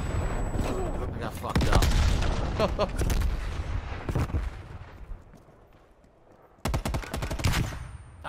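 Rapid automatic gunfire and bursts in a shooter video game, loud dense volleys that drop away into a quieter stretch and then return, with a player talking over them.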